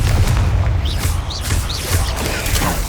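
A Confringo fire spell bursts in Hogwarts Legacy, a loud, rumbling low-end blast that sustains for a few seconds with faint bright chirps flickering above it.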